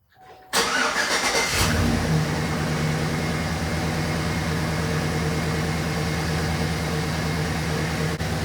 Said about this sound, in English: there is just a small ticking noise going on